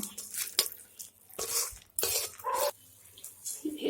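A spatula scrapes and stirs masala for cauliflower curry in a pan, making uneven, close scraping strokes and clatters with short gaps between them.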